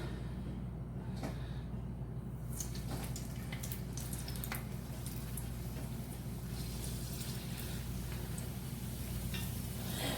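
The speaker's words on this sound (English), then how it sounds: "We're going to drop them into this nice hot oil." Egg rolls frying in hot oil, a steady soft sizzle and bubbling with occasional crackles and pops, heard close and fairly quiet with no talk.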